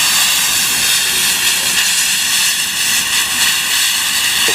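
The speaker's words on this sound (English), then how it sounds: "if we open this nozzle and try to light it up, then you can see the amazing gas that comes shooting out of there" Gas rushes from a torch nozzle in a loud, steady hiss, close up and continuous with no pauses.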